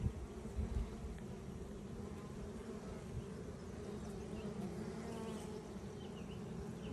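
Honey bees buzz steadily at an open beehive, a dense, continuous hum that fills the air at close range without any talking.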